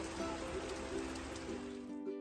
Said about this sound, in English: it was pouring rain most of the day